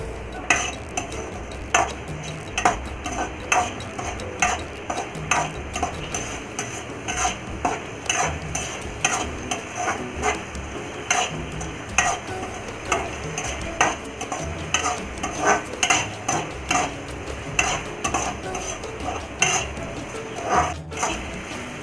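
Chilli sauce cooking in a pan for crispy chilli chana, stirred with steady rhythmic scraping and clinks of a utensil against the pan over a low bubbling sizzle, close and moderately loud, with no talking.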